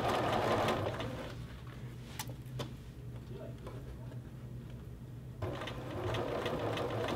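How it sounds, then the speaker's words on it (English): A domestic sewing machine stitches a hoodie pocket hem in place, its needle running in a steady, rapid mechanical whir that slows and pauses briefly midway before picking up again, close and clear. "And we're just sewing that pocket hem"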